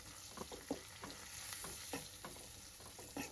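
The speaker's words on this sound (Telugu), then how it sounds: "దీన్నంతా కూడా ఒకసారి ఇలా ఫ్రై చేసుకుందామండి" Instant tamarind pulihora powder frying with curry leaves in a pan, a faint, steady sizzle broken by irregular soft stirring scrapes, quiet and without any voices.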